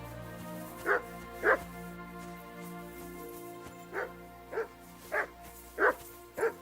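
Dog barks from the video game Kingdom Come Deliverance 2, seven sharp woofs, two early, then a pause and five more in quick succession, fairly close over a steady ambient game background.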